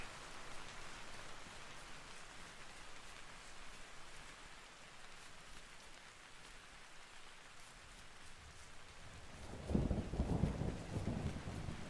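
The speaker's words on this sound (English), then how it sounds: "Hey look, more rain." Steady rain falling in the survival game Vintage Story, a constant soft hiss throughout with a louder burst of heavier rainfall near the end, no voices.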